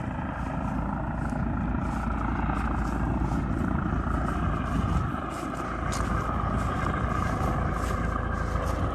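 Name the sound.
helicopter nearby at a paragliding training field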